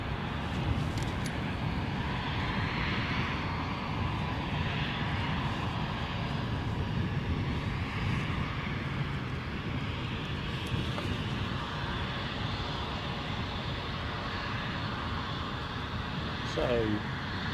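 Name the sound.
Embraer 190 jet airliner at Edinburgh airport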